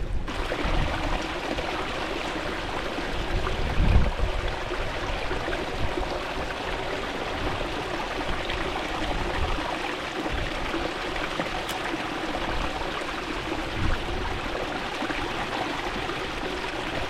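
Steady flowing stream water on a hillside hike, continuous and close, with a few brief splashes and gurgles as bottles are filled half a litre at a time for filtering; no talking.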